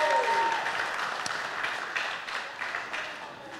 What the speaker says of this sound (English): Yeah, make some noise. Give it up for the Lord.